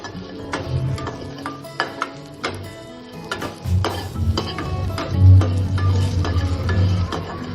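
Idli pieces tossed with podi powder in sesame oil in a pan, giving scattered clinks and scrapes of a utensil against the pan with a low sizzle underneath, close and fairly loud, no talk.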